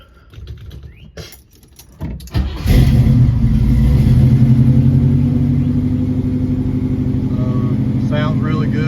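Some clicks and fumbling, then a car engine cranks and catches, settling into a loud, steady idle with slight revving, close by.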